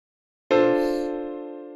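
A beginner's beat built in FL Studio kicks in after a short silence with a sustained, layered synth chord and a low thump, holding loud and steady before slowly fading over nearly two seconds.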